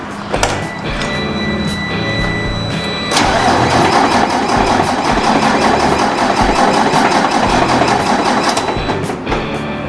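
A truck's starter cranks the engine after a stall, several stuttering turns before it catches and settles into a loud, steady idle close by.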